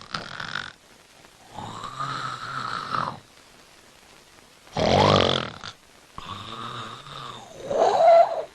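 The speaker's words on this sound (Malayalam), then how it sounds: "ഇന്ന് സംസാരിക്കാൻ പോകുന്ന വിഷയം എന്ന് പറഞ്ഞാൽ കൂർക്കം വലിയാണ്." A person snoring in a steady rhythm, each loud rasping breath rising and falling with quiet pauses between, close and alone with no talking.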